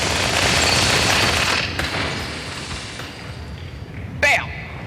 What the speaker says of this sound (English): The right trigger fires my needler, my SMG, and the left fires my needler